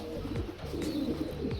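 Racing pigeons coo softly in a loft as they return from a release flight, low throaty calls repeating over a steady background hum.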